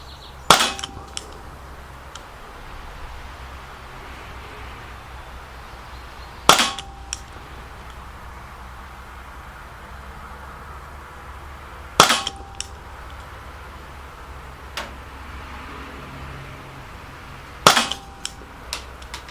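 Single-action shots from a Gletcher Grach non-blowback CO2 BB pistol: four or five sharp, isolated cracks spaced several seconds apart, each loud against a quiet outdoor background with a faint low rumble.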